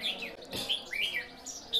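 Caged red-whiskered bulbuls, white-eyes and magpie robins sing nearby in quick, bright chirps and warbling whistled phrases that follow one another without pause. No one speaks.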